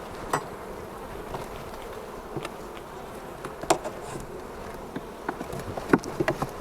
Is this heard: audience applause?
no